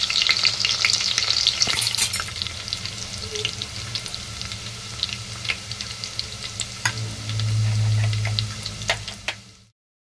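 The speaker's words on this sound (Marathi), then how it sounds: "कढीपत्ता आणि लसूणची फोडणी देऊन घेऊया।" Curry leaves and garlic sizzle and crackle in hot oil as a tempering for a village-style crab curry, a steady loud fry with sharp pops and spits, briefly swelling near the end before cutting off.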